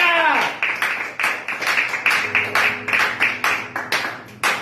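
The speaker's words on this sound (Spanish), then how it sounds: "da el mayor de los aplausos" Congregation applauding during a Christmas church service, a steady run of sharp, fairly close hand claps that builds into rhythmic clapping, with a low sustained instrumental tone underneath.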